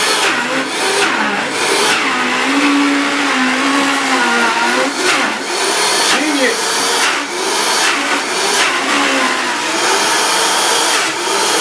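A blender blends an acai bowl with a loud, continuous motor whine that shifts in pitch as the load changes, with short bursts and dips throughout.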